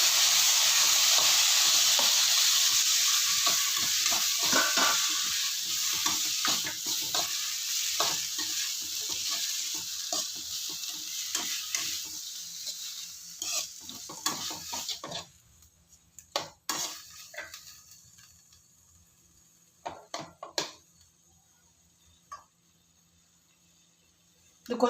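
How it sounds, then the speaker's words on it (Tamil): Chopped onions and tomatoes fry with curry leaves in a pan for tomato kurma, a loud continuous sizzle with stirring scrapes that fades after about fifteen seconds into quieter scattered clinks and crackles, no voices. "வெங்காயம் தக்காளி போட்டுடலாம்."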